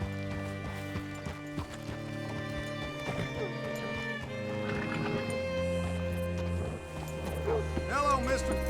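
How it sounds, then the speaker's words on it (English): Horse hooves clip-clop and a horse whinnies in Red Dead Redemption 2, mixed with game music and occasional thuds; someone talks over it. "Hitch your horse up here."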